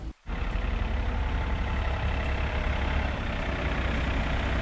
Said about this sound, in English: Yeah, the tractor here.